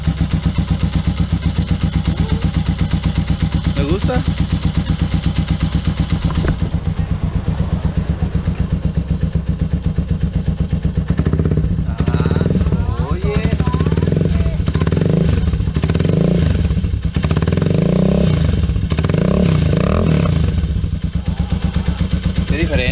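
A Bajaj Avenger 220 motorcycle fitted with a new exhaust idles with a steady, close mechanical rumble, then revs repeatedly in rising and falling bursts; a person speaks briefly over the engine.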